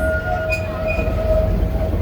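A train runs along a railroad through the woods, a steady close rolling rumble with a thin sustained wheel squeal on top and no voices.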